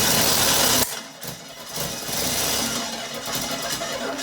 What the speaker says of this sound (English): So the engine started firing